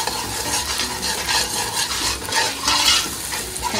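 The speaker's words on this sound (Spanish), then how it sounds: "estamos raspando todo el fondo de nuestro sartén para que tome todos los sabores que deja el pollo" A spoon scrapes and stirs across the bottom of a frying pan while mustard chicken sizzles, a steady crackling fry with repeated scraping strokes, close and moderately loud, with no talking.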